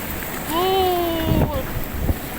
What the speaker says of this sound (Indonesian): Ini guys, gelombangnya, ombaknya